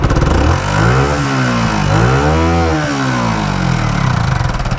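Yamaha R15 V3 motorcycle engine with a rocker arm noise fault, revving up and down close by, a loud continuous mechanical drone rising and falling in pitch with no talk.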